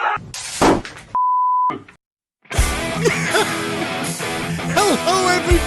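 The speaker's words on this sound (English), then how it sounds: "It plugs to my cell phone and I can play any tone from it" Steady electronic tone played from a cell phone into a ham radio transceiver, a single clean beep lasting about half a second between clunks and busy noise, followed by brief silence and then loud mixed sound.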